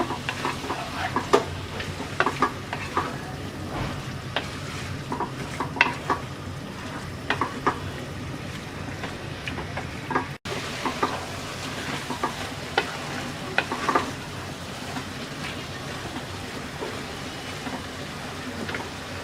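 Monkey jackfruit pickle frying in a pan with chili powder and turmeric, a steady close sizzle under frequent scraping and clicking stirring strokes, without talk.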